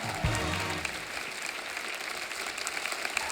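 A studio audience at a Hindi comedy show applauds the guests with a continuous dense wash of clapping that stays fairly even from start to finish.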